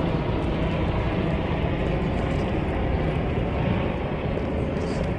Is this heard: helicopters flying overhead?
yes